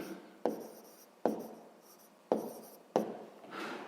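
Pen on paper as a math exercise is written out by hand, with four sharp taps of the pen touching down, each followed by soft scratchy strokes, close and fairly quiet.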